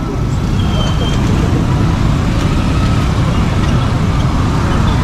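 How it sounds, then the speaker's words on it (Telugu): Heavy road traffic in Kampala, Uganda: a loud, steady, close rumble of engines and tyres from cars, buses and trucks, continuous throughout with no clear breaks. "ఈ కంపాలలో ట్రాఫిక్ అనేది చాలా అంటే చాలా ఎక్కువ"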